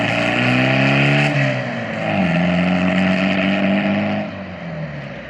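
A 1968 Volkswagen Beetle, sitting unused for four years, pulls away on its first drive, the air-cooled engine droning loud and near with rising revs and a gear change.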